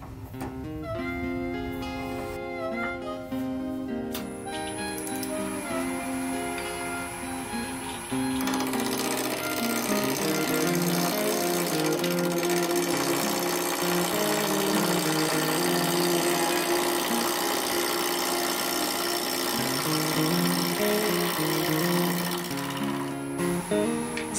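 Woodturning tools cut into hard hickory on a lathe, making a steady, busy whirring and chattering grind that runs without a break and grows louder and fuller partway through, with no one talking.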